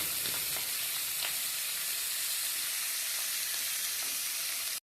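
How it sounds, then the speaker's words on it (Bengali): Pabda fish fry lightly in hot oil, a loud, even, bright sizzle that fills the sound with a few faint pops and stops suddenly at the end. "এখানে পাবদা মাছগুলো একটু হালকা করে ভেজে নেবো"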